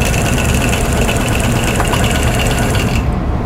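A quilting machine basting down the edges of a flying geese quilt top, its motor and rapid needle action producing a loud, continuous mechanical drone with a dense, fast rhythmic chatter, close up and alone.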